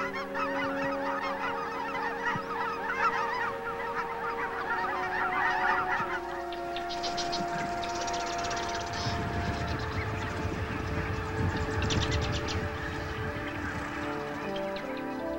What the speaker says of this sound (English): Wetlands and waterfowl by the thousands.